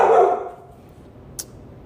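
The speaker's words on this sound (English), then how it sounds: "Dog's acting crazy" A dog gives one close, loud bark indoors at the start, which fades into quiet room tone, followed by a brief faint click.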